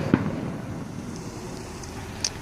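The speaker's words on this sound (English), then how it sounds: "The fireworks already started." Fireworks go off at a public display, with one distant thump near the start and a faint crackle later, all heard from afar over a steady outdoor rumble.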